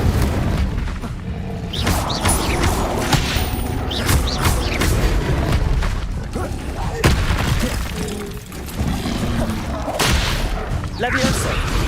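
The Incendio fire spell cast repeatedly in the Hogwarts Legacy video game, loud whooshing flame bursts and booming thuds recurring every second or two amid a busy combat mix of crashes and impacts.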